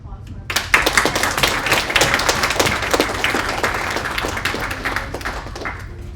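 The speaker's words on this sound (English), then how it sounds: "round of applause for" A college event audience breaks into a loud burst of clapping that stays dense and steady for about six seconds before tapering slightly toward the end.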